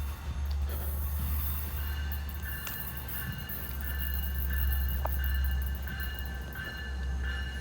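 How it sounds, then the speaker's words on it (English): An Oyster Bay Line electric train moves into the station with a steady low rumble, electric whine and faint squeals from the wheels, heard from the platform. "Once you hear that electricity, you know the train's moving in."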